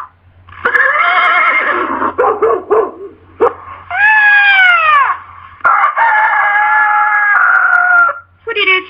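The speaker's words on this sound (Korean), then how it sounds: "당나귀가 신호를 하자 일제히 소리를 질렀어요." Animated storybook sound effects of a donkey braying, a dog barking, a cat and a rooster crowing all at once, a loud overlapping burst of animal cries in several bursts with brief gaps between them.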